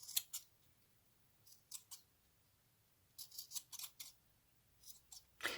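Scissors snip away the overhang on handmade boho beads in a quiet room, a few separate pairs and clusters of crisp cuts spaced through the stretch, close and clear with no talking.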